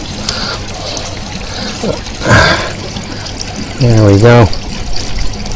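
Water trickling and pouring through stacked koi pond filter boxes, a steady close splashing flow with brief louder gushes, while a person talks nearby over it.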